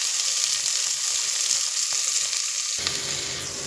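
Onions with rock salt sizzle steadily in a hot pan, a continuous crackling fry that briefly changes tone as they are stirred.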